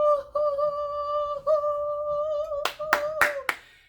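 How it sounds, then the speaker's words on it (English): Hands clap in a quick run of four sharp, loud claps near the end, following a sustained musical tone that plays alone before them. "Now, cue the applause."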